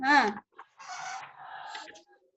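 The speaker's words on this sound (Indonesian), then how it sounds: "Itu ayamnya siapa itu berkokok itu?" A rooster crows somewhere near a home, picked up over an online video call during a university thesis exam; one strained, wavering crow opens the clip, followed by scattered fainter calls and noises.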